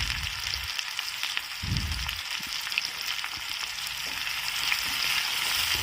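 Diced onions sizzle steadily in a frying pan, a dense continuous crackling hiss with occasional low clunks from stirring, close and fairly loud with no talking.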